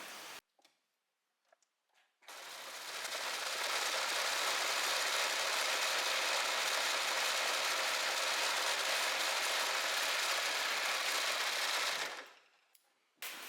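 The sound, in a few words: overlocker serging the edge of a blouse back facing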